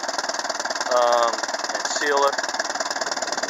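A 1952 Ferguson TO-30 tractor engine idles steadily with a small exhaust leak at a donut gasket, its even mid-pitched running continuous throughout while someone talks over it.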